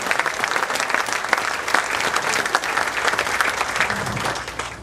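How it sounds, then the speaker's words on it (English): A big crowd at Saltergate football ground applauds steadily at a farewell parade of legends, a dense, even wash of many hands clapping close and loud for the whole stretch. "so I think they deserve a round of applause"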